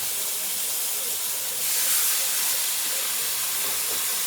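Large pepper-seasoned pork shoulder steaks fry in a skillet, a steady loud sizzling hiss that swells briefly partway through, with no voices.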